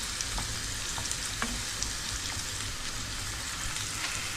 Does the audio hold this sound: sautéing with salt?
yes